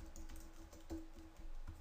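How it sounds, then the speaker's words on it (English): Quick keystrokes on a computer keyboard while entering a short line of text, a brief run of soft, close clicks with an even rhythm. "type in shopping cart"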